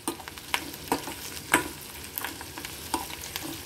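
Onions and turmeric frying in a spiced tempering while a spoon stirs, soft steady sizzle punctuated by several sharp scraping clinks against the pan at irregular intervals.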